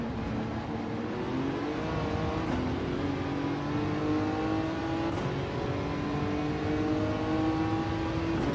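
A Nissan GT-R engine in the Gran Turismo 7 racing game, a smooth, continuous whirring drone that climbs steadily in pitch through the gears, with brief dips at each shift.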